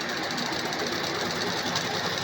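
A sewing machine runs continuously while stitching cloth, giving a rapid, even mechanical chatter that stays steady and close for the whole moment.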